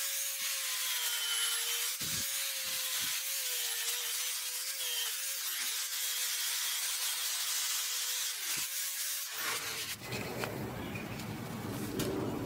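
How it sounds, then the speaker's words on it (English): Steady, close sanding with a fresh 220 grit pad on a maple guitar top, a continuous abrasive rub with brief catches. Near the end it changes to a broader, rougher scraping sound. "that finer grit sandpaper is really making that maple pop"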